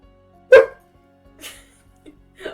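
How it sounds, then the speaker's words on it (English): A small dog gives a single soft, high yip-like bark up close, followed by a couple of fainter little whimpering yelps in an otherwise quiet room. "That was a tiny baby bark."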